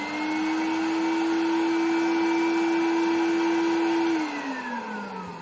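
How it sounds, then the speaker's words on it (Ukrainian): Vacuum motor of a Podotronic V400 pedicure machine running alone, a loud steady whine with a constant pitch that drops and fades as the motor begins spinning down near the end. "демонструю, що двигун пилососа працює як новенький"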